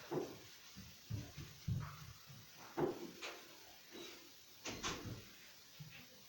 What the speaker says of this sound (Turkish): Kapıyı kapattım.